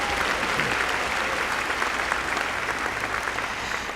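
A large audience at a college commencement ceremony claps steadily, a dense, even wash of applause with no break.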